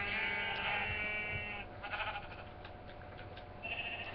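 Sheep bleat repeatedly, a few overlapping wavering calls close by, with low background noise between them.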